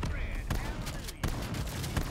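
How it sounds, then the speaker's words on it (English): A shotgun fires in Black Ops 3 Zombies: loud, booming blasts every half second or so over a dense, steady wash of game noise. "Dude, this shotgun!"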